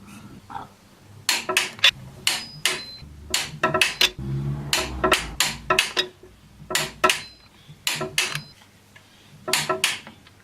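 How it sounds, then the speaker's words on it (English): On a 2003 Infiniti G35 flywheel and clutch job, a torque wrench works the flywheel bolts to 65 foot-pounds, giving loud, crisp metallic clicks and ratchet taps in short irregular bursts with a brief grinding rattle in between. "torque it down to 65 foot-pounds, and then continue on like that all the way around until I complete all of them"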